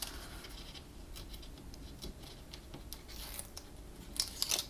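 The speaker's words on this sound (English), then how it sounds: "let's take the tear and tape liner off." Close, quiet scratches and soft ticks come as the liner is peeled off tear and tape adhesive on a paper note card holder, with a slightly louder crackle at the end.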